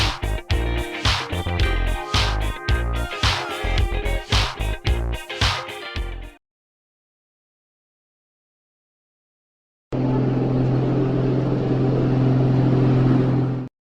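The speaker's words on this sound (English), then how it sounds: "The monster truck is a heavily modified off-road vehicle with large tires, designed for extreme stunts and competitions." A heavily modified off-road monster truck with large tires runs loud and close, its engine pulsing in rapid rhythmic bursts, then falls silent for a few seconds before a steady, droning roar returns.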